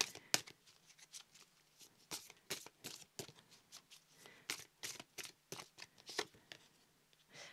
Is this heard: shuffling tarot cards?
yes